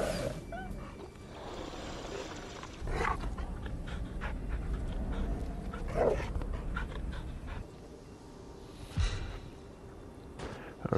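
A wolf pulling a dog sled in Fade to Silence pants and huffs close by, with a low rumbling animal vocalization among rustling wind and movement noise, and no talking.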